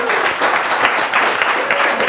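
A room claps for guests at a downtown podcast recording, steady close applause filling the whole stretch with no talking.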